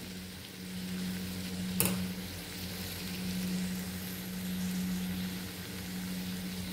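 Lima beans and potatoes fry in a pan, a soft, steady sizzle with a sharp clatter near the start and a low hum underneath.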